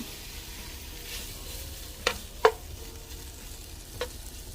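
Bacon fries in a pan for Zuppa Toscana soup with a soft, steady sizzle, broken by a few sharp utensil clicks near the middle and end.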